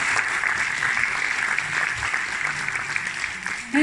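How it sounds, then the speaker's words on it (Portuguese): Audience applause fills an auditorium at a Portuguese music performance, a steady wash of many hands clapping throughout, moderately loud, with a brief shift near the end. "Uma salva de palmas a vocês"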